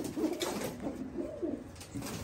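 English Long Face show pigeon cooing close by in a loft, a few soft rolling coos repeated over about two seconds, with no one speaking.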